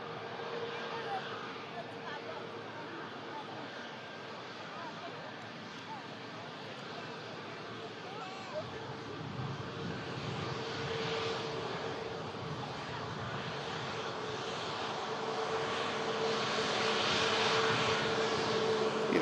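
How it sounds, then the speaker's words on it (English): Ryanair Boeing 737 MAX 8200 airliner rolling off the runway at a rapid exit, a distant steady engine whine and rumble that slowly builds louder toward the end. "Making the rapid exit here,"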